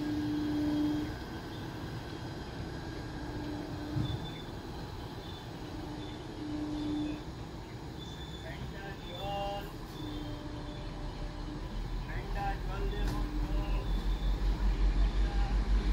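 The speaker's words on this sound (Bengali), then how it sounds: "আপ ফুল এক্সপ্রেস অর্থাৎ Howrah Suri express Bandel railway junction অভিমুখে যাচ্ছে।" Up Hool Express (Howrah–Suri Express) moving on the Eastern Railway line toward Bandel Junction, a sustained mid-distance rumble with recurring tonal whines and a throbbing low pulse building toward the end.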